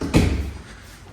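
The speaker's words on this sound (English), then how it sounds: "Shut the doors." A door swung shut with a single solid thud, then a brief low rumble fading out in a quiet space.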